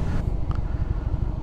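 A car drives along with a steady low engine rumble and rhythmic road thrum, close and fairly loud, with no voices during the brief stretch.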